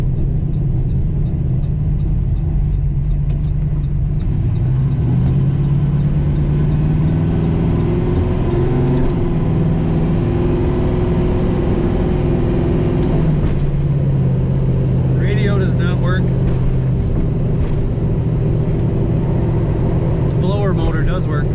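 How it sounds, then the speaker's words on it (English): 1970 Dodge Dart Swinger two-door hardtop out on a drive, its engine giving a low, steady rumble with gentle rises and falls in pitch from gear changes and acceleration, and some faint clicks over it. "Dodge Dart Swinger going for a rip."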